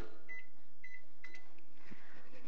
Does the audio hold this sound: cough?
no